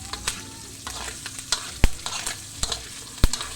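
Pork adobo being stirred in a pan with onion, garlic, pepper and lemongrass, steady sizzling and frying broken by sharp scraping stir strokes at irregular intervals, close and fairly loud with no talk.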